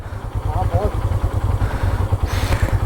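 A motorcycle loaded with luggage climbs a rough mountain road in Balochistan, its engine chugging in a steady low rhythm close by while people talk over it.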